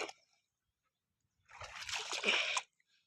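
Water splashes and sloshes for about a second as someone wades into knee-deep pond water, close by, after a brief silence.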